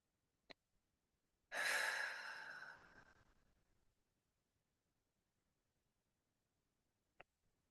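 A single deep breath let out in a long, soft exhale during a naturopathy breathing exercise, rising sharply then fading over about two seconds, with faint clicks before and after in otherwise near silence.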